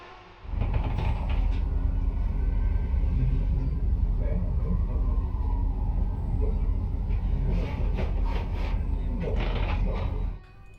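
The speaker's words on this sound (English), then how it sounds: "we sit still on the main line, getting passed by other commuter trains" Steady rumbling roar of a commuter train passing on the main line for several seconds, heard from a stationary train in Poland, with clattering and squealing toward the end before it cuts off.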